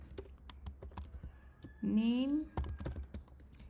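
Computer keyboard typing while writing a Python print statement: irregular, close key clicks with a brief voiced sound in the middle.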